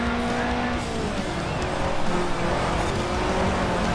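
Tires squeal and skid as a car's brakes lock and the handbrake throws it sideways into a corner in a racing game, a sustained screech over engine noise lasting several seconds.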